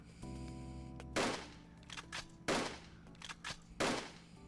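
Rifle shots from the visual novel game Labyrinth of Grisaia, fired at a target: about five sharp, loud cracks at uneven intervals, ringing over a steady musical backdrop.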